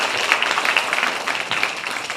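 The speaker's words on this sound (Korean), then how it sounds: "박수를 격려해 주시면 감사하겠습니다" Dense audience clapping at a social welfare talk concert, a steady, loud wash of many hands that fills the whole moment.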